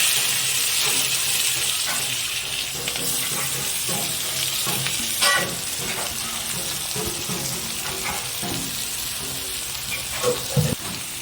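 Onion dropped into hot oil with black cumin for a Bhola fish curry crackles in a bright, continuous sizzle, punctuated by stirring scrapes and a few louder spatters near the end, with no voice.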